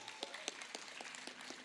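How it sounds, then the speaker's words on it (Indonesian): An audience at a leadership transition ceremony for the MPL media organization claps in a thin, scattered burst of applause, faint and brief. "Tepuk tangan untuk kita semuanya."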